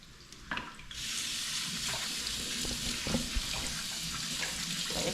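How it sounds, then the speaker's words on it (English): Tap water pours over saltfish held in a kitchen strainer, starting with a brief clatter before a steady close splashing stream settles in and runs on. "using the strainer to hold the saltfish while I run it under the water"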